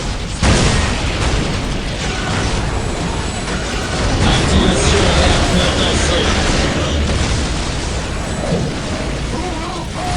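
Grenade explosions in a Warhammer 40K video game: heavy, loud booming blasts that merge into continuous battle noise, with voices speaking over the din.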